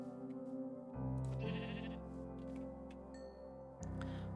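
Sheep bleating in Minecraft Bedrock, a few drawn-out game bleats over a steady background of game music and ambience, fairly quiet and with no talk.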